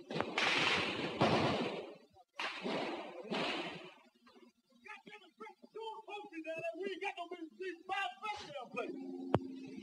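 Machine gun fire in a street battle in Hue during Tet 1968, a couple of loud sustained bursts of crackling fire at the start, then a voice speaking over faint background noise.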